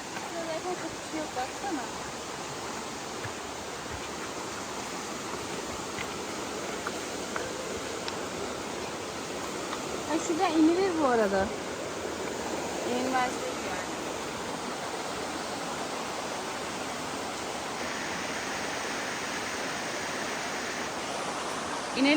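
A waterfall at the Erfelek falls on the Black Sea coast gives a steady, broad rush of water throughout, continuous and fairly even, with faint voices and small movements occasionally surfacing over it.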